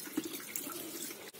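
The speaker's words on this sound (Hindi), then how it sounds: "अब हम इसको पानी से वॉश कर लेंगे" Water runs steadily from a kitchen tap as freshly made paneer is rinsed to wash out the vinegar, a soft continuous splashing heard close and alone.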